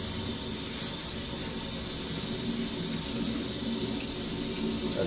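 Tap water runs steadily into a kitchen sink while kale is rinsed under it, a continuous close splashing hiss with no break and no voices.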